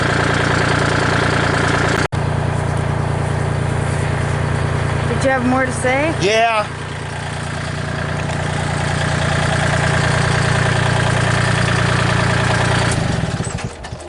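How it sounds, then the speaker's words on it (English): A Kubota L2501 tractor engine idles with a steady low drone throughout, while a person speaks briefly over it. "I hear the tractor running and I can't hear myself"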